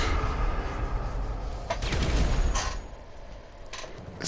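Muffled booms and crackling gunfire from grenades and guns in Grand Theft Auto burst out in a dense, continuous game soundscape, loud and close, with a heavier blast near the middle.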